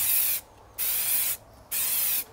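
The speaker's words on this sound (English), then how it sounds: "You never keep spraying." Black spray paint hissing from an aerosol can onto a Unistrut roof rack in three short, even bursts separated by brief pauses, close and steady.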